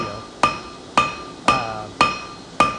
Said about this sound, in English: Now, the 304 here is definitely harder under the hammer than mild steel,